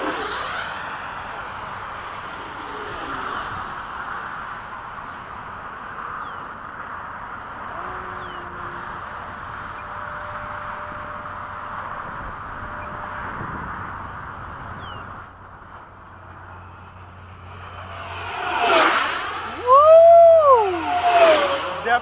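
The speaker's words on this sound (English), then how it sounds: "Love the sound this fan makes." A model jet with a ducted fan flies in a formation session at a flying field. Its steady whine drifts at a distance through most of the clip, then swells into a loud rising and falling roar as it makes a close pass near the end.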